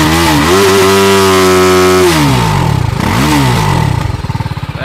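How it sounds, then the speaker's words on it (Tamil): A TVS Apache RR310 motorcycle exhaust revs up close and loud, holding a high steady note before dropping back, then blipping again and settling into a throbbing, pulsing idle. "அப்பாச்சி RR310ஓட எக்ஸாஸ்ட் சவுண்டு எப்படி இருக்குதுன்னு நம்ம கேட்டு தெரிஞ்சுக்கலாம்."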